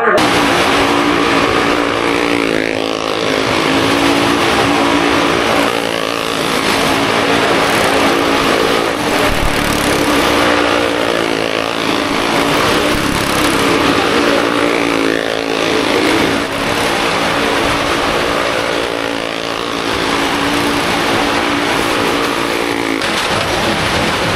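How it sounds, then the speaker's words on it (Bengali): Motorized rickshaws drive past on a busy street in Maranpur, with a continuous loud engine drone and rumble throughout, mixed with crowd voices and street noise. "মরণপুরে এরকম রিক্সা গাড়ি চালায়"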